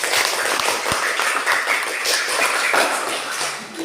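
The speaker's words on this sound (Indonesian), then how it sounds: "tepuk tangan untuk kelompok 3" A classroom of students claps for a presenting group, a loud, dense burst of clapping that holds steady and tapers slightly toward the end.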